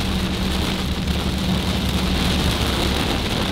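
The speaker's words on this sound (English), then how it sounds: "It rains super hard one part then go like straight like this." Heavy rain pours steadily on a moving car during a storm in the Oklahoma area, a loud, dense, unbroken hiss with a low road rumble underneath and no talking.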